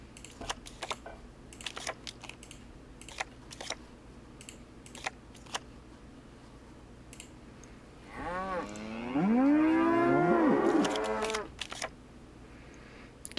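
Cows moo in the Nancy Drew: The Captive Curse video game, a couple of drawn-out, wavering moos near the end, preceded by scattered keyboard and mouse clicks.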